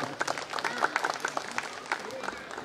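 A crowd at a devotional bhajan event claps in welcome for a guest, a moderately loud patter of many hands with scattered sharper claps and faint voices underneath.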